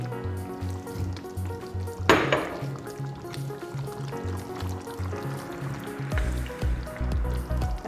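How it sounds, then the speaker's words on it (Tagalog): Bell pepper sizzles and fries in a simmering chicken afritada pan, a steady crackle with a louder burst as the pieces go in, over a low background hum. "lalagay ko na yung bell pepper."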